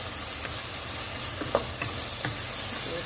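Peas fry in a yogurt masala for pasta, giving a soft steady sizzle with a few light stirring scrapes and clicks in the pan, quiet and close, with no talking.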